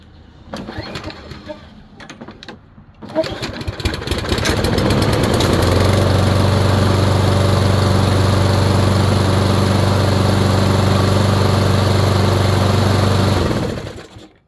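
A lawn mower's pull starter rasps briefly, then the small engine catches and runs at a loud, steady, close-up drone for several seconds before shutting down.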